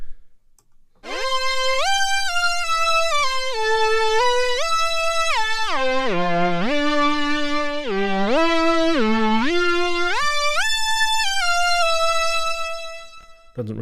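A bright, buzzy synthesizer lead in unison mode on a Behringer Pro-800 plays a continuous melody with gliding pitch steps, thick and sustained, loud and alone.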